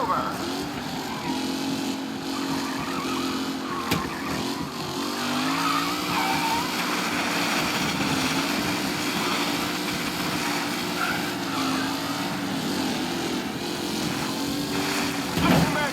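Race cars from Mafia Definitive Edition roar around a vintage circuit, engines whining and tires squealing and skidding in a dense, continuous blend. A commentator talks over the racing now and then.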